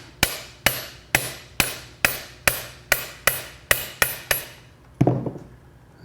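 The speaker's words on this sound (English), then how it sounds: "I'll try whacking this from the back to pop some of these mold cores out." A hammer strikes the back of a mold to knock out its cores, giving about ten sharp, evenly spaced metallic blows close by, then a final heavier thud.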